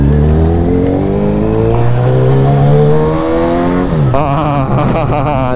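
A Honda CB1000 SP four-cylinder motorcycle engine revs loudly and close, pitch climbing steadily, then drops and climbs again as it accelerates through gears.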